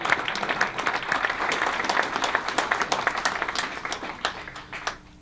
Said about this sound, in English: Yeah, I'll clap to that.